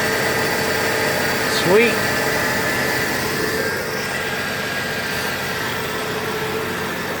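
A restored 1974 Ford F-250 Ranger with the 4.9 engine idles just after its first cold start, a steady, fairly loud low rumble. A brief squeal cuts through early on, and a voice speaks briefly over it.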